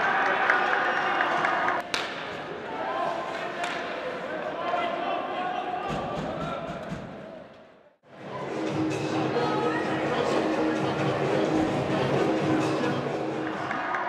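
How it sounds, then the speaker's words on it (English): At the final buzzer of an ice hockey game, an arena crowd roars and applauds in a sustained wash of cheering, briefly dipping to near silence midway before surging back just as loud, with an announcer's voice over it. "A huge cheer goes up"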